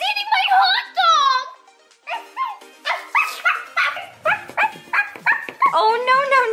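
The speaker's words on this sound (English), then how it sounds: "Barbie, your dog is eating my hot dog" A dog at a Barbie and Ken doll family party barks, yips and whimpers in a quick series while eating a hot dog, close and loud and mixed with voiced sounds.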